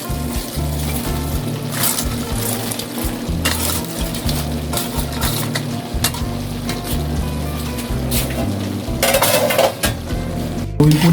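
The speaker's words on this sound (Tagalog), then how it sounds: "Lalagay na po natin ng repolyo." Cabbage goes into a pot of cooking food, with loud clattering of a utensil against the pot, stirring scrapes and a sizzling, bubbling background throughout, close and busy.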